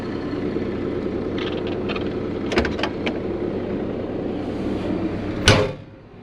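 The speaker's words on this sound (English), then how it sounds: "Let's close this door." The cab door of a 2018 CAT 303.5E2 CR mini excavator shuts with a sharp single thump near the end, preceded by small clicks over a steady engine idle.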